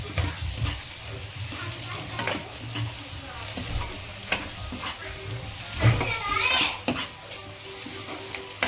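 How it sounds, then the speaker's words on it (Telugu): Chilli powder fries in oil in a pan for a stuffed eggplant curry, a busy close sizzle with frequent spoon scrapes and metallic knocks against the pan at an uneven stirring rhythm. "కొద్దిగా కారం పచ్చివాసన పోయేంత వరకు కూడా వేయించుకుందామండి"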